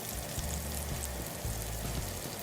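Garlic and honey sizzle in a pan on the stove, a steady close crackling fry with small pops throughout and no talking.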